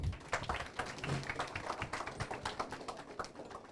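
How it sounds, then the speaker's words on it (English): A round of applause for an interim athletics director at a quarterback club gathering: scattered but steady hand claps from a modest crowd, fairly close and continuous, with no talking over them. "So let's have a good round of applause for our interim athletics director, Mr. Michael Smith."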